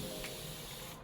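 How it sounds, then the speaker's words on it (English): A spray bottle releases a fine mist of water onto curly hair during styling, making a single sustained, close hiss that lasts about a second. "Look how much it sprays in just one shot"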